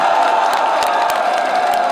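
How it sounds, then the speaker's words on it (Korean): A crowd cheers and claps at a South Korean presidential campaign rally in Asan, South Chungcheong. A sustained, loud mass of voices and scattered clapping comes with sharp accents throughout. "김문수 대통령 후보께 다시 한번 힘찬 박수로 환영해 주시기 바랍니다"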